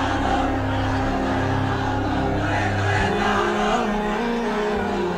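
A large crowd at a religious gathering chants slogans in unison, a loud, massed roar of voices rising and falling in rhythmic bursts that fill the space.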